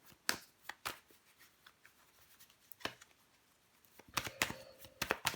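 Tarot cards are shuffled and handled, giving scattered soft riffles and snaps, then a quicker cluster of louder card flicks near the end, quiet and close.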